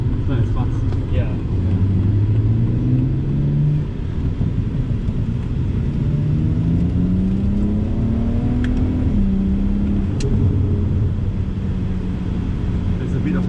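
A BMW 335i or M3 E92 coupe engine revs steadily, with a deep droning exhaust that rises and falls in pitch and a few faint crackles, heard from inside the car with people talking over it.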